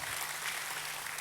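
Applause for God during a church worship service, a steady wash of clapping that fills the whole short moment without a break.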